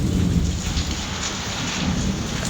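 Heavy monsoon rain pours outside a home in a dense, continuous roar, with the low rumble of thunder underneath throughout.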